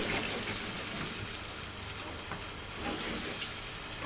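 Meatballs fry in a hot pan with a steady, close crackling sizzle that runs unbroken for the whole stretch. No voices are heard.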